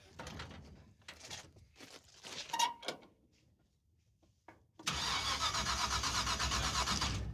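A car with no spark has its starter cranking without the engine catching: after scattered clunks and movement, a steady, fairly loud whirring crank runs for a few seconds right up close.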